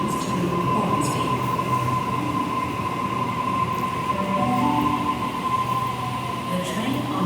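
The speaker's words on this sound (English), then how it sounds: "The train on platform 1 goes to Hornsby via Central" A Sydney suburban train at North Sydney station platform gives a loud, steady rumble close by, with a sustained high wheel squeal running throughout.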